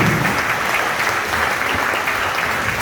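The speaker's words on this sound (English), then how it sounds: "Family, you can clap now." Audience applause at a welcome dinner gathering in Hawaii: dense, steady clapping from many hands throughout, fairly loud and sustained with no talk over it.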